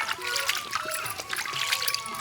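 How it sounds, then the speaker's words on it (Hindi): Fresh radishes scrubbed by hand in a basin of water in a village kitchen, with close, continuous splashing and sloshing as they are rubbed and turned, punctuated by small trickles and drips. "अब एक एक पानी से खूब रगड़ के धो देते हैं"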